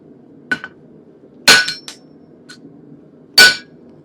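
A hammer flattens a 420-layer Damascus steel pirate sabre on the anvil. Three hard, ringing metallic blows land at uneven intervals, with a few lighter taps between them against a quiet background.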